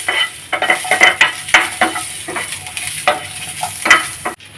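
Onions for black urad dal rice being stirred and roasted in a pan, with repeated sharp scraping strokes over a steady frying sizzle, close and fairly loud, no talking.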